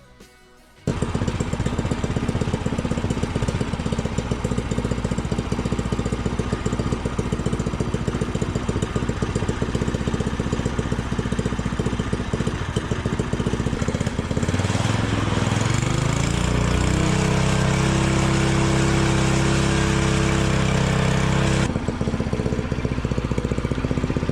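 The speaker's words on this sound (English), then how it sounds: "So now let me try the Predator 224 exhaust." A minibike engine fitted with a Predator 224 exhaust idles steadily and loudly up close, a rough, even throb that rises briefly in pitch partway through before settling back.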